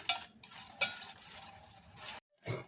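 Blueberry jelly powder being stirred into half a litre of boiled water in a bowl, with close scraping and light clinking strokes in short bursts, a brief silent pause near the end, then one more stir.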